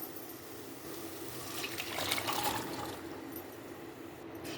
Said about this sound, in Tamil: நம்ம வேக வச்ச பருப்பை இதில் கொட்டிடலாம்